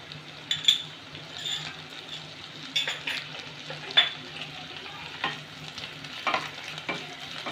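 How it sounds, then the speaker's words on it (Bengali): Onion, ginger and green chillies fry in a pan, stirred with a utensil that scrapes and clinks against the metal at intervals over a soft, continuous sizzle, close up. "একটু নেড়ে নেব"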